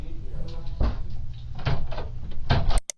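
A door shuts in played-back footage, with thuds and clunks rising out of a low murky background, ending in a sharp click before quiet.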